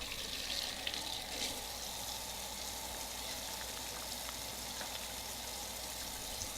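Tap water runs steadily over a marinated London broil steak in a kitchen sink, a continuous even hiss with faint splashing from start to end.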